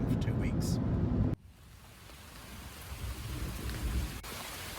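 Steady rain falls by a lake, a dense hiss that starts loud and close, then drops to a softer, even patter for the rest of the clip.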